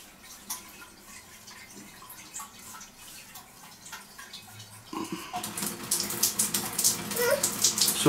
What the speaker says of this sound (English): got the old tap running.